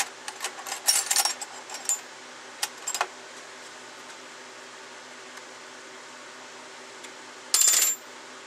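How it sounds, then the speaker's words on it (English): Metallic clinks and taps from a wrench tightening a part on a wire-feed welder, in a quick irregular cluster near the start, a few scattered knocks, then a short bright rattle near the end over a quiet hum. "I'm going to have to tighten that up with a wrench"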